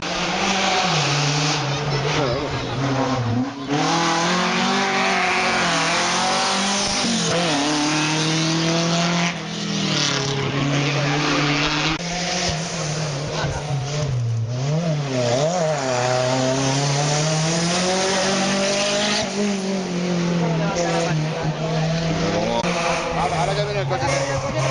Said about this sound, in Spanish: Ahora que viene el coche.